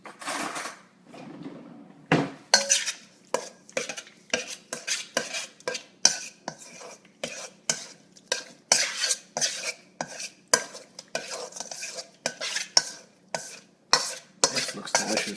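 Tuna poke stirred with salt and pepper in a bowl, a close, rhythmic run of quick clinking and scraping strokes of a utensil against the bowl, repeating steadily throughout.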